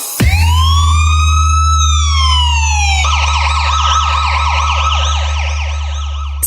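A police siren wails loud and close over a steady deep bass hum, a long rising-and-falling tone switching near the middle to a fast repeating yelp, played through a sound system during a check.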